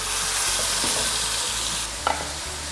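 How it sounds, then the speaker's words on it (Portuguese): Beef eye of round sears in a hot pan with a loud, continuous sizzle that drops slightly partway through. A couple of sharp utensil clinks follow as the meat is turned. No one speaks. "E vou fazendo isso até todos os lados da carne estiver bem selado."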